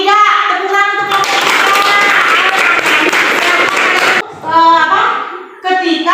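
Classroom applause for a student group during an Islamic studies lesson on prostration, a dense burst of children clapping lasting about three seconds, framed by nearby talk before and after.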